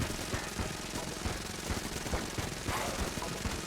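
Enter the Gungeon shooting plays as a steady, fast rattle of small rapid shots, moderately quiet and continuous, like a clattering stream of game gunfire with no talk on top.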